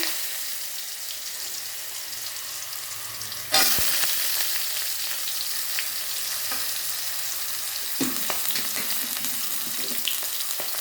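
Potatoes hitting hot oil with bay leaf, radhuni and panch phoron, a loud, steady sizzling crackle that flares up as they go in and keeps frying, with occasional stirring clinks.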